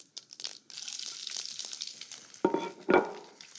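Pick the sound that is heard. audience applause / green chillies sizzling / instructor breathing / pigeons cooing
green chillies sizzling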